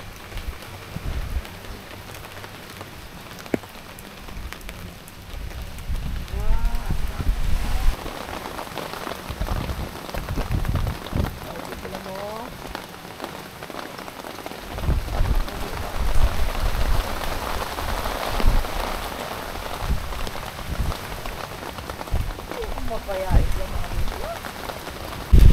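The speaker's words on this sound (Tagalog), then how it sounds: "Grabe yung ulan. Hangin." Heavy rain pours onto surfaces with gusty wind, a steady dense patter that swells and fades over time, with occasional voices under it.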